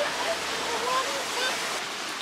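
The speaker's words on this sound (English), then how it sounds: "there's a bit of a small waterfall" A small waterfall at Katherine Hot Springs gives a steady, close rush of falling water, an unbroken hiss that holds level throughout with no talk over it.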